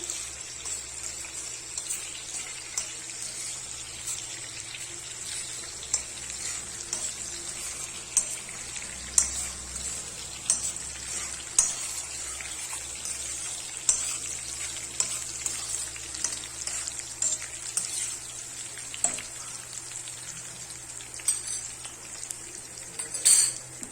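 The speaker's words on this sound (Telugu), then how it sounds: "కొంచెం బాగా ఫ్రై అవనిద్దాం." Flaxseeds fry in a pan for a laddu, a faint continuous sizzle with scattered light pops and occasional spoon clinks and scrapes, close by and quiet, with no talking.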